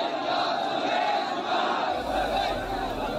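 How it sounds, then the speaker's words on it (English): A crowd of thousands chants the slogan Labbaik Ya Rasulallah in Pakistan, a loud, dense mass of voices roaring together and swelling steadily, with a deeper rumble joining partway through. "A crowd of thousands were raising this slogan"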